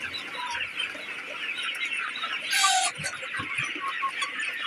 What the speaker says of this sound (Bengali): খাদ্য খাচ্ছে সব মুরগি দেখেন